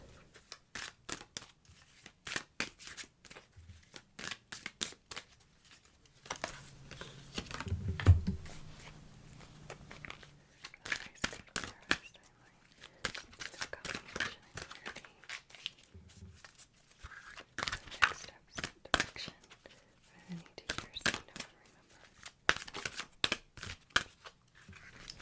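Oracle card decks, including a Divine Illumination deck, being shuffled and cards pulled in a quiet ASMR setting. Close, soft bursts of riffling and flicking clicks come in irregular clusters, with light tapping and card handling between them and no talk.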